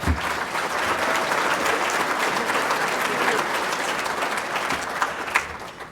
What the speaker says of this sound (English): I expected a lot more applause